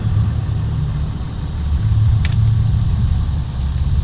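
A truck engine idles close by with a steady low rumble and even hum, constant throughout without revving, plus one brief sharp click partway through, and nobody speaking.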